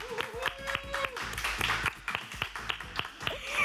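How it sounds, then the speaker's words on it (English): A studio audience claps and cheers for nurses on a South African live afternoon TV show, with dense, uneven applause and sharp hand claps running throughout, mixed with excited voices and a whoop. "that round of applause, I hope, sends all the love and well wishes and thank you to the nurses"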